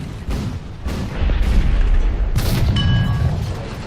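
A tank cannon firing in War Thunder, with a Kanonenjagdpanzer tank destroyer battling a T-44-100: a heavy, loud boom rolls into a long low rumble of battlefield noise.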